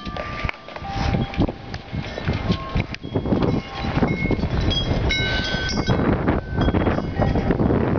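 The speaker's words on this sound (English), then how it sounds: "it's fucking windy as hell" Strong wind buffeting the microphone outdoors in snow, a steady, loud roar with gusty surges throughout.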